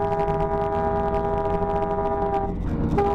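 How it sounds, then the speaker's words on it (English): A truck's air horn honks continuously and loudly on a road in a hit-and-run chase, its steady sustained tones holding for about three seconds with road noise underneath. "He continued to honk at them"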